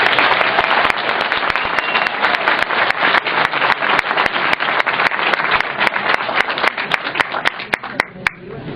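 A large audience claps vigorously and continuously, sharp individual claps standing out within a dense, sustained round of applause at a public gathering with a First Nation chief present.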